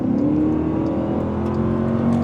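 A 2025 Dodge Durango Hellcat's V8 pulls hard on the highway, a steady rising drone of acceleration with road and wind noise, no voices.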